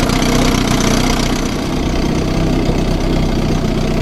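A 1957 Sea King 5HP outboard motor, running for the first time in 20 years, idles slow and steady, loud and close, with a continuous low chugging throb and no pauses.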